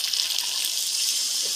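Water is poured into a frying pan of chicken curry, giving a steady, close hiss and splash with no pause and no voices over it.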